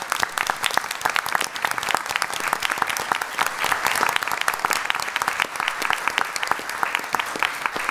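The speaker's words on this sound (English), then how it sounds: "we can give you a nice round of applause for being here tonight" Parents and staff at a school board meeting give arts students a warm round of applause, crisp individual claps blending into a steady, fairly close burst that lasts several seconds without talk.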